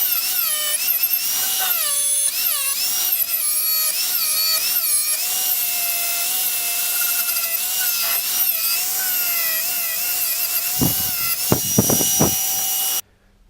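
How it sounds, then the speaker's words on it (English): Twist knot wire wheel on an angle grinder stripping paint from a Land Rover 110 door, a high whining screech with shifting pitch as it bites the metal, close and sustained, ending abruptly. "We took the wire wheel to these and just got rid of the paint on both sides."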